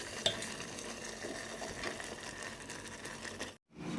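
Paneer makhani curry fries and is stirred in a pan, giving a steady close sizzle and scraping that runs for several seconds with no talking, then cuts off briefly near the end.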